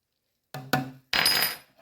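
Spoon clinks against a dish while beef broth and a gravy soup packet are stirred together, a few sharp clinks then a longer scraping swirl, close and alone.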